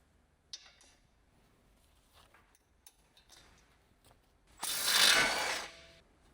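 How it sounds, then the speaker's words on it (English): An electric impact wrench with a large 18mm short socket hammers out the lower control arm ball joint retaining bolt on a Ford Focus ST, one loud buzzing burst of about a second following faint clicks and handling noises. "Using the large 18mm short socket with the large electric impact wrench"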